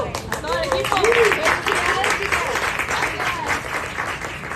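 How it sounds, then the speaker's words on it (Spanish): A crowd at The Warning's ERROR listening party Q&A applauds the team with loud, sustained clapping, while voices and cheers ring out over it. "Sí, entonces una aplauso A todo el equipo"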